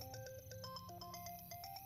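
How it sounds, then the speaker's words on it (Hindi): A phone ringtone plays a bright, repeating melodic pattern, faint and steady, with no voices over it. "तेरा फोन बज रहा है, जाके उठा ले यार।"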